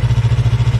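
A motorcycle engine idles through a turn with no throttle, its low exhaust beat pulsing quickly and evenly, close and steady for a brief moment.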